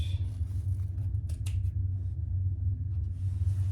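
Scissors trim the corners of fabric for an enlarged triple sling, giving a few brief, light snips over a steady low room hum.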